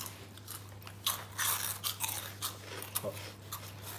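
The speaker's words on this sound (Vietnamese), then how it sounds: "cho mọi người nghe tiếng nhai nó rất là giòn" A giant packaged snack is crunched loudly and close up, with a run of crisp bites and chewing crunches in an irregular rhythm.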